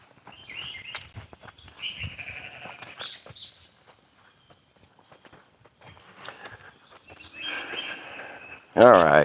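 Sheep bleat close by on overgrown land, several calls breaking out amid footsteps and people talking nearby, ending in one loud, close bleat.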